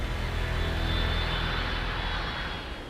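A DC-10 airliner on final approach for landing, its engines producing a loud, steady broadband roar that fades slightly toward the end.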